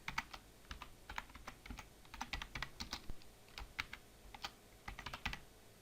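Quick, irregular keystrokes on a computer keyboard as a name is typed in during setup for the game Superfighters Deluxe, close and clear with short pauses between bursts and no voices.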